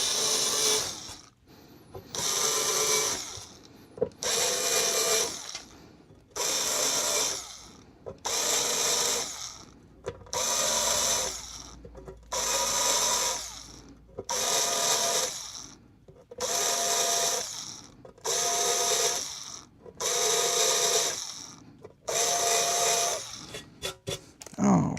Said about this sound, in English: So now we can deburr. So let's get the deburring tool here.